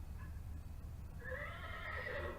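A voice imitates a horse with a long, wavering whinny that rises and trails off, preceded by a brief faint squeak.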